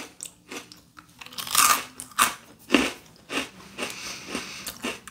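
Spicy chili puffed rice crackers are bitten and crunched up close, a series of sharp, crackly bites followed by chewing, loud and isolated with no talking.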